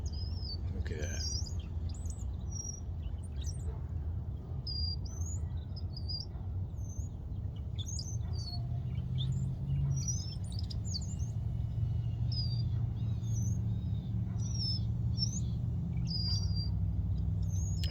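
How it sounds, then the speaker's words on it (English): Small birds chirping near a flying drone, with repeated short high chirps scattered across the whole stretch over a steady low motor drone. "I can see the little birds."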